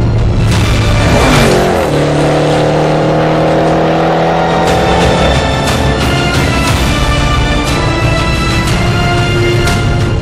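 The engine of a Range Rover Sport SVR revs hard and loud, with rising tones as it accelerates, then a sustained, throaty roar with crackles, close and continuous for about ten seconds.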